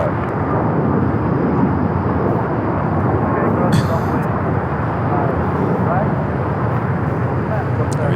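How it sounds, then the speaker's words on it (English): A Korean Air Cargo Boeing 777 freighter prepares to take off from runway 25 left at LAX. Its engines give a loud, steady, broadband roar that holds for several seconds, with some talk over it. "Here with that Korean Air Cargo 777 freighter going to be taking off 25 left."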